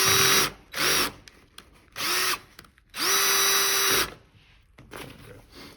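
A power drill drives screws into a runner seat unit in four sharp bursts, each rising to a steady whine before cutting off, the last one longest, with light handling knocks in between.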